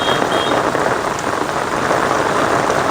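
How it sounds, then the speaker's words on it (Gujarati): Heavy monsoon rain pours down on a village street outside a shop in Gujarat, a dense, steady hiss heard close and alone. "વાહ જોરદાર ભાઈ વરસાદ"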